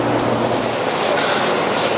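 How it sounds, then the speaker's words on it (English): Steady abrasive rubbing of sanding on sealed wooden shop panels, a continuous close scratching texture with no break and no voices. "I'm already about halfway done with the sanding of them."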